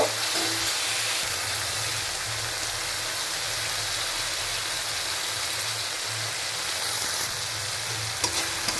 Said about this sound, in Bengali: এবার মিশিয়ে দিলাম এর সাথে